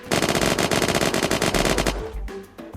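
A Scalar SMG in the video game Unturned fires a fast, sustained automatic burst at a wall for about two seconds, loud and close, then stops. A couple of faint clicks follow.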